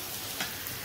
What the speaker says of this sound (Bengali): আর এদিকে পেঁয়াজটা ভাজা হচ্ছে